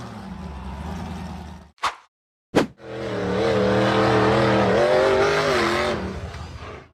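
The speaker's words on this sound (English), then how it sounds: "The dark red buggy aggressively powered up to conquer the steep dirt hill." A dark red off-road buggy's engine roars and revs hard while climbing a steep dirt hill, cutting out briefly with a couple of sharp knocks before surging again in a long, loud, rising drone.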